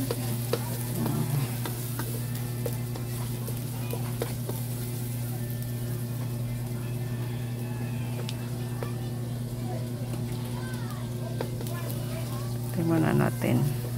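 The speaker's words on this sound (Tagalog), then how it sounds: "saute natin yung ahos at saka bombay" Garlic and onion sauté in a pan for a chicken pochero, giving a steady sizzle with occasional stirring scrapes under a constant low hum, with a brief burst of louder clatter near the end.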